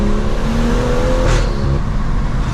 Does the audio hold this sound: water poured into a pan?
no